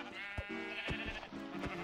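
A Minecraft sheep bleats repeatedly in the video game, three or four short, nasal baa calls in quick succession, close and clear with no talk.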